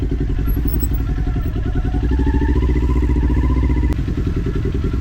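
A nearby motorcycle engine at Thruxton runs at held-up revs, its pitch rising slightly and then steadying, with no voices.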